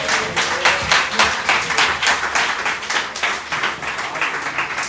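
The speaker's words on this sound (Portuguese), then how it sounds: "Dê uma salva de palmas ao Senhor." A church congregation claps together during a Portuguese-language service, a dense, energetic round of applause that stays loud and steady throughout, with a faint voice underneath.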